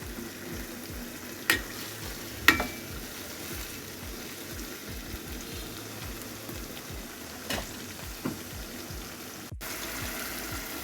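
Chicken meat frying in a pan with red chili, turmeric and mixed spices, a low steady sizzle with occasional sharp clinks and scrapes of a stirring spoon.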